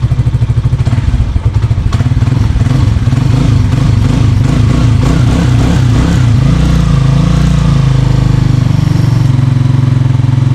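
A loud motorcycle engine chugs and clatters close by, then rises into a steadier, stronger running roar.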